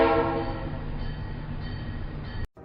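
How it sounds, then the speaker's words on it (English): A train gives a long, loud horn blast with a rumbling undertone, held steady for over two seconds before cutting off abruptly. "This train is yellow."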